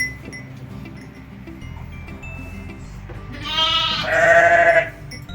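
A lamb left outside the pen at night on a village sheep farm bleats loudly in a couple of drawn-out, wavering cries over a low rumbling background.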